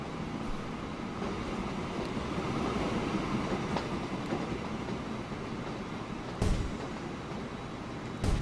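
A train rolls steadily in the Train Fever video game, a continuous rumbling rail drone with faint clicks and two brief louder thumps near the end, no voices.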